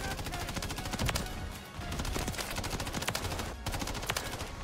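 Gunfire in the video game Modern Warfare 3 crackles in dense, rapid bursts of shots that run almost continuously, with only a brief pause, loud and close, with no speech.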